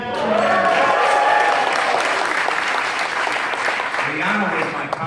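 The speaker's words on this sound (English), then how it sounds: "Let me hear a round of applause for people." Loud, sustained round of applause from a crowd at a ceremony unveiling a House chairman's portrait, with scattered cheers and voices mixed into the clapping throughout.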